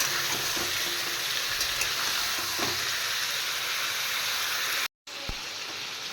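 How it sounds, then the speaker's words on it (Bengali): Chicken fries in hot oil with a steady, dense sizzle, with occasional soft scrapes and clicks; a brief dropout near the end. "বন্ধুরা, চিকেন ভাজা হয়ে গেছে,"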